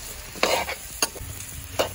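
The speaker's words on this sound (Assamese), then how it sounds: "তাৰপিছত ভালকৈ লৰাই দিওঁ আৰু" Onions and green chillies frying in a pan are stirred with a utensil. Steady close sizzling sits under three distinct scraping strokes, with no voices.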